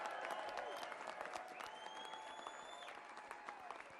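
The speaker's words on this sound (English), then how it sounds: "Let's give a round of applause," Steady clapping from an audience at a Ron Paul event for small business owners in Hudsonville, Michigan, fills the whole stretch, a dense, even wash of applause with faint whistles on top.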